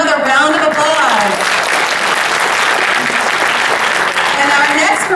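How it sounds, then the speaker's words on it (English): Loud applause from a crowd fills the clip, with voices talking over the clapping at the start and again at the end. "Let's give her another round of applause."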